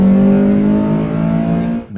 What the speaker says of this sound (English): But when you engage VTEC